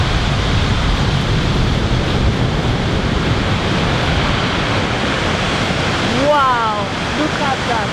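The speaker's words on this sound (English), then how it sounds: "And this waterfall, how high?" The Saut du Doubs waterfall, about 20 meters high, gives a loud, steady, close roar of rushing water. A brief voice-like sound rises near the end.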